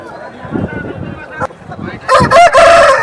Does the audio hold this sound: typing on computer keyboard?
no